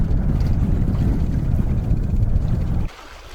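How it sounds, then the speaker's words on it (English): A small trolling motor drones low and steady as it pushes a Nordica 16 sailboat across a lake, rumbling continuously before cutting off abruptly near the end. "It's been a slow trip with this trolling motor though, let me tell you."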